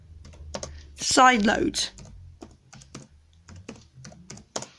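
Someone types on a computer keyboard close by in a series of sharp, irregular key clicks, with a brief spoken word partway through.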